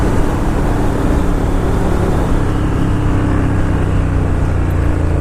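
A Ducati Diavel cruiser motorcycle roars through a tunnel, its engine a loud, steady, reverberant drone that holds without a break.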